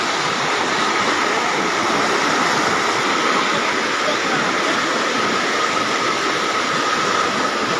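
Floodwater rushes through a village in Sherpur, Bangladesh, making a loud, unbroken broadband roar that stays constant throughout.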